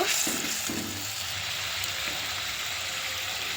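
Water poured into a simmering fish curry sets off a steady, close sizzle and bubbling hiss in the pan, continuous with no voices.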